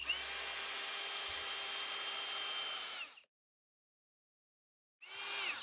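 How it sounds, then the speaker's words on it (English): A power drill whirs steadily into wood, drilling a countersink hole, for about three seconds, stops briefly in silence, then starts up again near the end. "You countersink it, yep."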